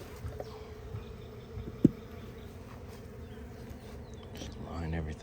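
Honey bees hum around an opened hive during a February inspection, a faint steady low buzz with one brief close knock, outdoors and without talk.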